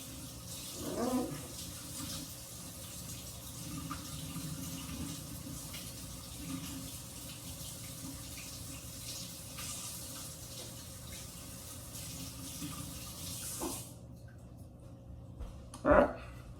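Cold tap water runs steadily into a kitchen sink while a tuna steak is rinsed, with splashing and brief thuds. The flow stops near the end and a voice talks over parts of it.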